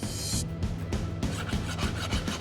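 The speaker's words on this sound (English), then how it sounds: "Pull it out of the oil, first thing, hit it with a file." A file is dragged over a freshly oil-quenched steel blade in a forge, making loud, close, rough rasping strokes in a quick repeated rhythm.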